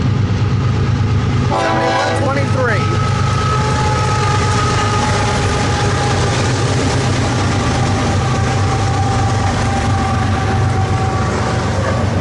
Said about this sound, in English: this is a Z train, it looks like